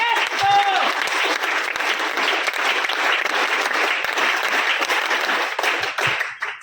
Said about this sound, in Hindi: तो एक बार उनके लिए जोरदार तालियां।